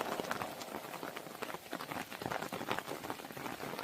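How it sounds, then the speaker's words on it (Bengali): Dense, steady rain patters and splashes on surfaces, a continuous crackling wash of drops with no voices. "বৃষ্টি এখন ঝুমঝুম পথ কাদা হয়ে গেছে"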